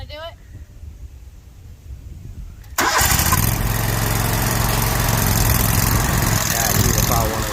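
A lawn mower engine rumbles through a quieter stretch, then catches sharply and runs loud and close, with a voice talking in the background.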